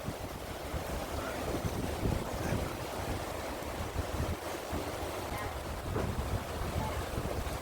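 Sea waves wash continuously near a hotel on the Andaman coast, a steady broadband surf roar with gusting wind buffeting the microphone throughout.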